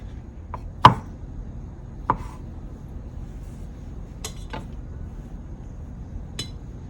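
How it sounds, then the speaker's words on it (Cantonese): A knife thinly slicing fresh mushrooms on a cutting board while making a bacon and tofu pizza, a few sparse sharp chops with quiet gaps between them, close and clear. "再切返2個新鮮嘅菇。 薄薄地咁切啦"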